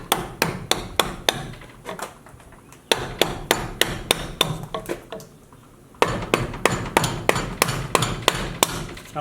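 A chisel driven into cedar by a hammer, sharp close strikes in quick rhythmic bursts of several blows separated by short pauses.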